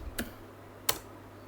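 Two separate, crisp keystrokes on a computer keyboard while HTML code is written, spaced well apart and quiet against a low background hum.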